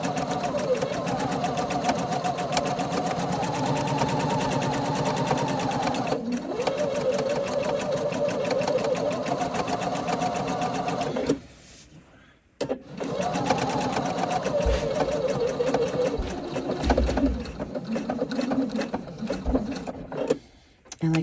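A sewing machine runs a box stitch through fabric in steady, rapid whirring bursts, pausing briefly around the middle before starting again, close and loud.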